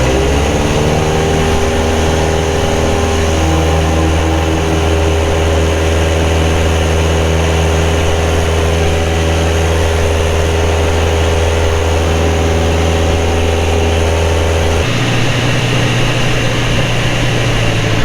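A 2010 Carbon Cub SS light aircraft engine and propeller run at full power, a loud, steady, droning roar that fills the cabin, then the pitch and tone shift near the end.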